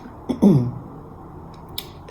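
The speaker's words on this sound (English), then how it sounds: "Excuse the coughing, not coughing, but phlegmy." A single short phlegmy throat clear, close and fairly loud, from a speaker with a cold, followed by quiet room tone with a faint click near the end.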